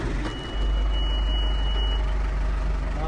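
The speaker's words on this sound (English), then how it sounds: "Start the old tractor up." An old farm tractor engine catches after a brief start and settles into a loud, steady low idle, with a faint high electronic tone sounding briefly partway through.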